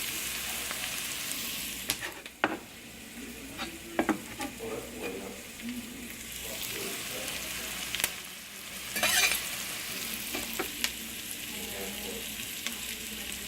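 Garlic and wilted vegetables sizzle steadily in a hot pan for gumbo while a spoon stirs them, with scraping strokes and bursts of frying crackle close up and no talking.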